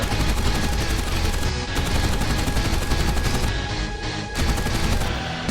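Four 12.7mm Ho-103 machine guns on a Ki-61 fighter fire in War Thunder, a dense, loud, continuous rattling barrage of rapid rounds that holds steady for the whole stretch.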